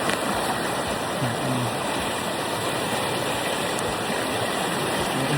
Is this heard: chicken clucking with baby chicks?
no